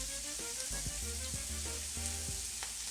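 Rack of lamb seared in a pan with rosemary and garlic, a steady close sizzle carrying through with a few knocks and clatters of the pan, and no talk.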